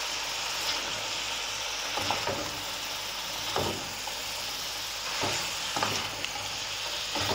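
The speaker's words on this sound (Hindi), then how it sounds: "अब बंद गोभी के साथ 1 मिनट और फ्राई करेंगे" Cabbage and other vegetables stir-frying over a high flame for chicken chow mein, a loud continuous sizzle with a few sharp scrapes and tosses of the pan at intervals, close by with no talk.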